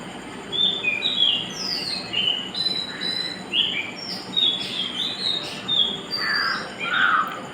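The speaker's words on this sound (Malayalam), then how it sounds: "നമ്മുടെ കാക്കച്ചിമാർ ഉണർന്നു" Crows cawing in the early morning after waking up, a series of harsh squawks and calls scattered over a steady bed of insect chirring, close and fairly loud.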